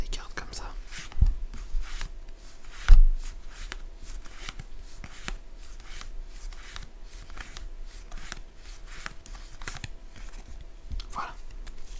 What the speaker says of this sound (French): Le passage des cartes comme ça.